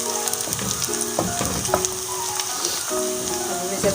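Sliced onions fry and brown in hot oil with a constant crackling sizzle, while a faint steady tonal hum runs in the background.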